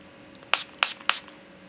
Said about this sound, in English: To set my face, I go over the top. Makeup Revolution Pro Fix Setting Spray.